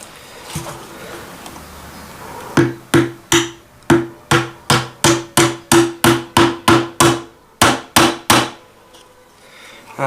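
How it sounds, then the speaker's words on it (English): A hammer drives a nail into the wooden hull planking of an HMS Endeavour ship model, about fifteen sharp close taps in a quick steady rhythm after a few softer opening knocks. "Grab a hammer."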